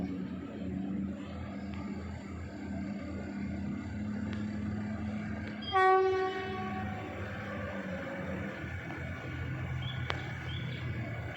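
A GE diesel locomotive, number 4040, passes on a railway line in Kanchanaburi, Thailand: a steady low rumble of the train with one loud horn blast midway.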